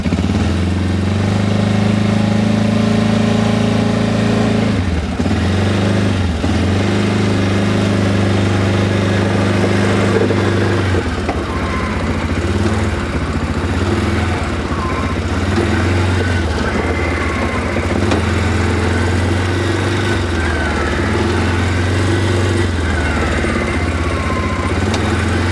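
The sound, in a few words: quad bike (ATV) engine running nearby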